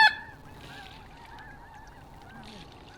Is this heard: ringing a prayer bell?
no